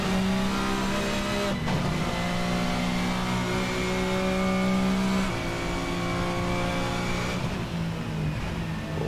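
A race car engine in a sim racing game drones steadily and loud, with shifting tones and a brief drop around gear changes, alone without talk.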